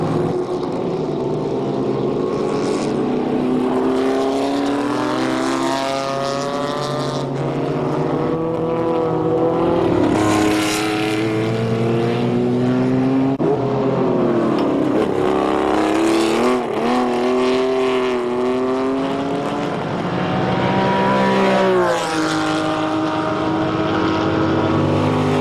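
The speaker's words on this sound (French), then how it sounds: "Il reste au total 38 voitures sur le circuit pour une douzaine d'abandons." Race cars lapping a circuit during the 1994 Deux Tours d'Horloge endurance race, engines wailing and sweeping up and down in pitch as cars pass close by, one after another in an unbroken loud stream.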